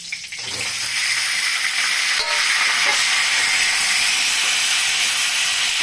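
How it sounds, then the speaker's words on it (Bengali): Cauliflower fries in a pan of oil already used for eggplant, a loud close hiss and crackle that begins sharply and then holds steady and dense throughout. "ওই একই তেলে আবার আমি ফুলকপিটা ভাজবো।"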